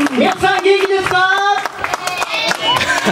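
Audience at a live dance event clapping in a steady rhythmic beat along with loud music, with speech mixed over it.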